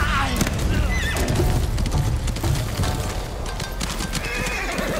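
Horse in the Ghost of Tsushima video game, loud neighing over rapid clip-clopping hooves and dense battle noise, continuous and close, with possible faint voices underneath.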